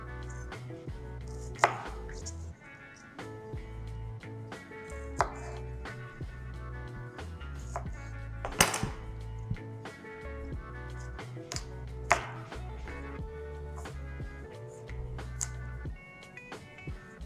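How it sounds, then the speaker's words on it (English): A knife chops fresh cranberries on a cutting board in quiet, quick, uneven bursts of taps over many seconds, with a few sharper knocks standing out, close and with no speech. "we're also going to chop some fresh cranberries"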